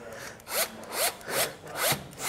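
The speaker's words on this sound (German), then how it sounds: "So ein Akkuschrauber macht es einem aber auch nicht leicht." A cordless drill driving screws into wood while building a small garden shed, four short whirring bursts with a rising pitch sweep, close up and evenly spaced, no voices.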